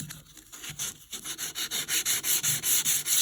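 Hand sanding with 220-grit sandpaper along the edges of a soft wooden charcuterie board: close, steady back-and-forth rubbing strokes that settle into an even rhythm, about a dozen in three seconds.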